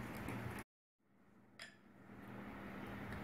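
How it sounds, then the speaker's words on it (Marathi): A beater mixing hot cream and chocolate into ganache in a bowl, giving a steady whirring scrape with light clinks. It cuts out briefly, then resumes with a sharp clink and builds back to a continuous mixing noise. "बिटरने असं मिक्स करून घ्यायचं"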